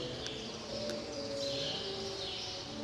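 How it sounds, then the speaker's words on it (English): Faint birds chirp and call in a New York City setting, small tweets rising over a soft steady background of ambient noise and distant tonal sound. "And hear the birds."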